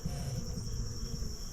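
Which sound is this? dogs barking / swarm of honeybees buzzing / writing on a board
swarm of honeybees buzzing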